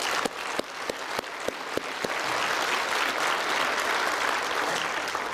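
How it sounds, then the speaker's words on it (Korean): Church congregation applause at a Korean mission church service: a few sharp, separate claps come first, then they swell into sustained, full applause from a large crowd. "우리 하나님께 영광의 박수 올려드리겠습니다"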